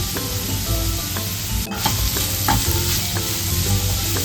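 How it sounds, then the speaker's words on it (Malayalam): Chopped onion and curry leaves stirred in a hot pan for chana masala, a steady close sizzle with repeated scraping strokes of the spoon and no voices. "അരിഞ്ഞു വെച്ചിട്ടുള്ള സവാള വേപ്പിലയും ചേർത്ത് ഇളക്കാം"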